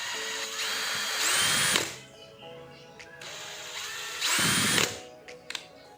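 A Dewalt DCD796D2 cordless drill whirs in two separate bursts, its motor whine rising as the variable-speed trigger is squeezed and then falling away, with quiet clicks and handling noise between runs.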